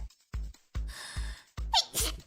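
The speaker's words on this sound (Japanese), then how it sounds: "くしゃみやばい、マジでやばい" A woman's sharp sneeze, close and loud, at the end of a run of short breathy gasps and vocal bursts.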